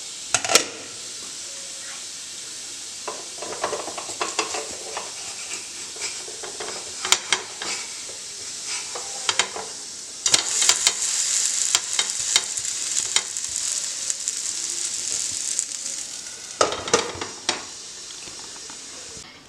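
Parippu dosa, a Konkani lentil dosa, sizzles and fries on a pan with a constant bright hiss, broken by sharp scraping and clinks of a turner against the pan, with no one talking.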